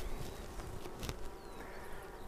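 Drone-laying honeybee colony buzzing loudly at an open hive, a dense constant hum of many bees up close, with individual bees whizzing past, no talking.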